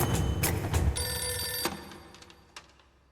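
Telephone bell ringing in a Hindi-dubbed South Indian action romance film, a loud repeated ring in close bursts that fades into quieter, sparser rings toward the end.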